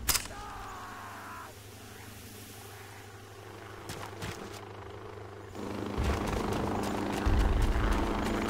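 Helicopter rotor and engine in the Joint Operations: Typhoon Rising video game, a steady loud droning whir with chopping pulses that swells louder near the end, mixed with game effects.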